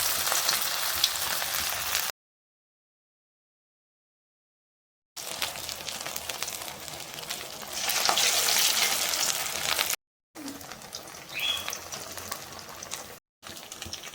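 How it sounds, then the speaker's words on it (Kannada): Sabudana (sago) vadas deep-frying in hot oil, a dense, steady sizzle and bubbling crackle heard close up, broken by a few silent gaps, with no voices. "ಎಣ್ಣೆ ಕಾದಿದೆ ನಾನು ತಟ್ಕೊಂಡಿರೋಂಥ ಒಡೆನ ಎಣ್ಣೆ ಒಳಗಡೆ ಬಿಟ್ಕೋತಿದ್ದೀನಿ"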